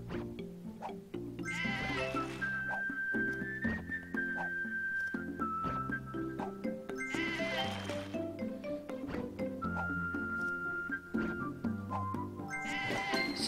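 Sheep bleat again and again in a video game, with several loud, wavering calls rising over a steady bed of background game music and sounds.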